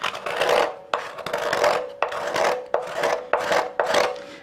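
A hand scraper works the inside of an elm wood bowl in about seven short rasping strokes, each a dry scrape with brief pauses between, close and clear with no talking.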